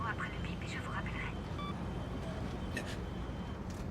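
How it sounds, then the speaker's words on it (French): An answering machine beep on a French-language recording sounds as one short, clean electronic tone in the middle of a steady background hiss and rumble. "Laissez votre nom et votre numéro après le bip"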